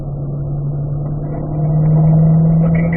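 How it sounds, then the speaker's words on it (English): A race car on a track accelerates through a banked bowl, its engine a steady mid-pitched drone that swells louder and rises slightly in pitch toward the end, with no talk. "Gotta get that car down."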